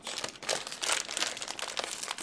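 An Italian snack bag is torn open by hand without scissors, giving a run of crisp crinkling and rustling bursts of plastic packaging, close and fairly loud, with no talk over it.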